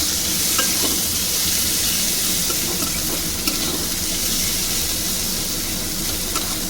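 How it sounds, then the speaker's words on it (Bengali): Chopped onion and green chilli fry in hot oil with a steady, loud, broadband sizzle lasting throughout, with faint stirring scrapes mixed in and no voices. "একটু লালচে লালচে হওয়া পর্যন্ত আমি পেঁয়াজটাকে ভাজবো"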